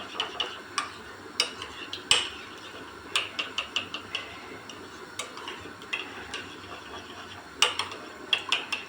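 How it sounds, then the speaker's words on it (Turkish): A spoon stirring a yogurt and flour mixture thinned with a little water, a steady run of quick clicking scrapes against the bowl, close and fairly loud. "Burayı tekrar karıştırıyorum"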